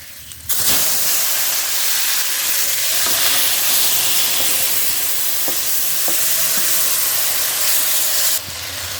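Bottle gourd leaves hit hot oil with browned garlic, bursting into a loud, steady hissing sizzle that holds throughout with a few light stirring clicks, then cuts off near the end.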